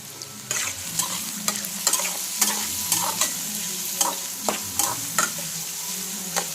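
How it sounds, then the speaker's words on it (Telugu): Onions sizzle steadily in a pan while a spoon stirs them, its scrapes and taps landing in a loose, regular rhythm over the constant frying hiss, close and fairly loud, with no talking. "ఈ ఆనియన్స్ అంతా మంచిగా వేగిందాక"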